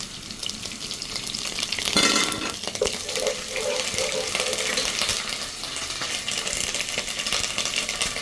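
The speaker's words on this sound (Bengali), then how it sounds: "পেঁয়াজ কুচি দিয়ে ভালো করে ভেজে নেব।" Chopped onion frying in a pan for white pulao, a steady, close sizzle and crackle that runs throughout, with a brief clatter of stirring near the start.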